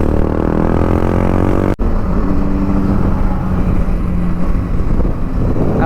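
Motorbikes pass at speed on an open highway, with a loud, continuous engine roar close by and a brief dropout partway through. No one speaks.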